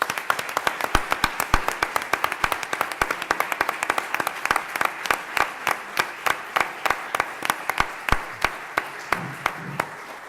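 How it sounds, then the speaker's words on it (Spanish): An audience claps at a year-end university faculty ceremony. The applause is a dense run of sharp individual claps that stays fairly steady and close throughout. "Un fuerte aplauso a todos."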